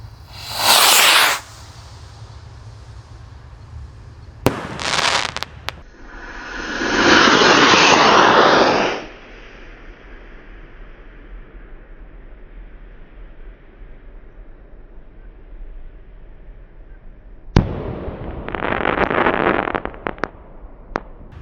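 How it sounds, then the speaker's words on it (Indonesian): Backyard firework rocket launches with a loud whoosh, then bursts with a crackling hiss, followed by a quieter second crackle near the end, heard alone outdoors. "Kita tancapkan di sini, teman-teman. Dan roket siap meluncur ya."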